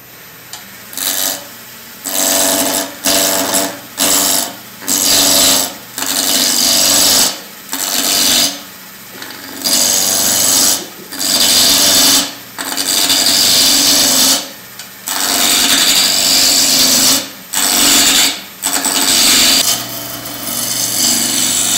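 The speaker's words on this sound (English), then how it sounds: "I'm going to just round this over with my spindle roughing gouge" A spindle roughing gouge cuts a spinning madrone blank on a wood lathe, giving loud, rough, rasping bursts that come in repeated passes of about a second each with short quiet gaps between them, close up and without speech.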